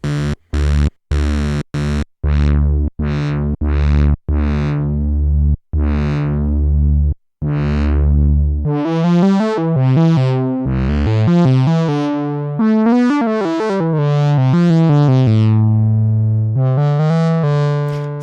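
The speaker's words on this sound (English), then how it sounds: "you can hear a little bit of the modulation of the filter cutoff" A Dave Smith Pro 2 analog synthesizer plays a filter envelope that sweeps the cutoff, starting with short, punchy staccato notes and moving into a flowing, wobbling melodic line, loud and alone.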